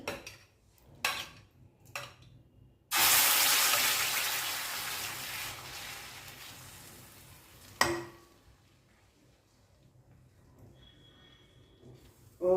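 Uttapam batter made with poha and curry leaves hits a hot dosa griddle with a sudden loud sizzle that slowly fades, preceded and followed by scraping utensil clinks.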